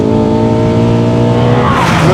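Aston Martin Vantage V8 sliding with its tires skidding, the engine note loud and sustained, then a rising squeal of rubber near the end.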